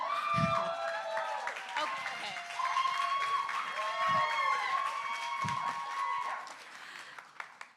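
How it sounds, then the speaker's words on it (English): An audience at an opening address claps and cheers, steady applause mixed with whoops and raised voices, with a few sharper thumps standing out before it thins away. "Can we give a round of applause?"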